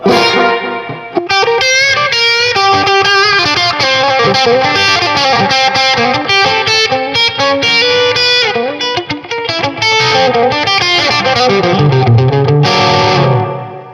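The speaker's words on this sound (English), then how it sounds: "Splash of delay." Electric guitar played through a splash of delay from an Analog Alien Rumble Seat pedal setup, repeating notes smearing into a dense, continuous wash of chords and lines with reverb tails, loud and steady throughout.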